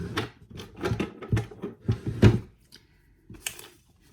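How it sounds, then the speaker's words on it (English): Close rummaging sounds: knocks, wooden scrapes and a drawer sliding, with objects clattering in irregular bursts before a pause and a final clunk. "I'm gonna get a pair of scissors."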